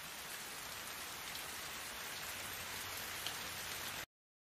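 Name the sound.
heavy rain in a Korean drama scene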